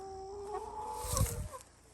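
A few chickens clucking close by in a coop, a few soft bursts rising in the middle of the clip over a steady background hum, with no talking.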